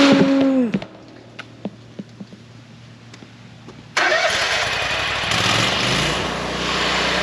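A Kohler engine cranks and fires up after a few quiet clicks and taps, catching abruptly and settling into a loud, steady running roar close by.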